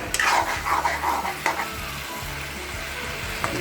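Vegetable curry (sabji) sizzles and fries in a pan in a home kitchen while being stirred, with steady crackling and occasional scraping of the spoon, close and moderately loud.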